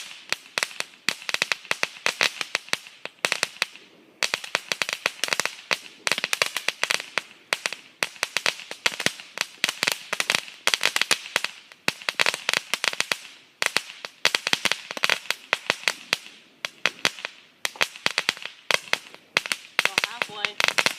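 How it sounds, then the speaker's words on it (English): Crackling fireworks at a firework show burst in continuous, loud waves of rapid snapping pops across the whole stretch, with only brief lulls between volleys and faint voices beneath. "Pure crackle, guys."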